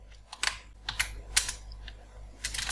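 Keys tapped on a computer keyboard while entering list items in a word processor, a few quick bursts of clicks with short pauses between, close and fairly loud against a low steady hum.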